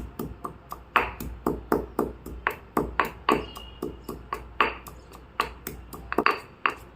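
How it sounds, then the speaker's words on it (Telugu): A small piece of ginger pounded in a mortar, a steady run of sharp, ringing strikes about three per second, close and clear, with no voices. "ఇప్పుడు దీంట్లో చిన్న ముక్క అల్ల ముక్క తీసుకోవాలి దీన్ని కూడా బాగా మెత్తగా దంచుకోవాలి"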